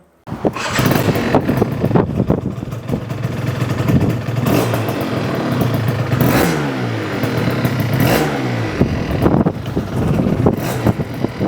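A BWS 100 scooter with a Malossi 125cc kit being ridden, its small two-stroke engine buzzing loudly and continuously with rising and falling revs and throttle surges, heard up close throughout.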